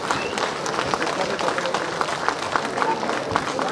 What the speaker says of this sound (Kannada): ಚಪ್ಪಾಳೆ ಹೊಡೆಯೋದ್ರ ಮುಖಾಂತರ ಅದನ್ನ ಸ್ವಾಗತ ಮಾಡಬೇಕು